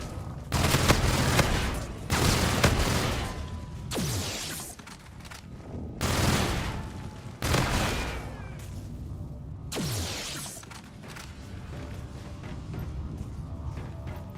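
Bursts of automatic gunfire in the video game Infinite Warfare Zombies, several loud rattling volleys separated by short pauses, with whooshing effects between, close and dense, no voices.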